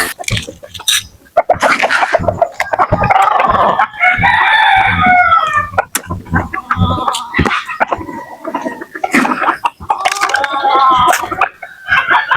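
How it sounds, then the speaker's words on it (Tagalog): Farmyard chickens, including a hen, cluck loudly and continuously at close range, with repeated squawks and rooster-like calls rising over a restless scratching, pecking background. "Medyo maldito tong mga manok mga idol."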